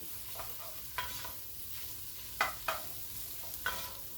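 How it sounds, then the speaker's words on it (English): A spoon stirs tomato paste and onions browning in a hot pan, a low steady sizzle broken by several sharp scraping strokes against the metal, close and with no voices. "stir this up till the tomato paste starts to brown"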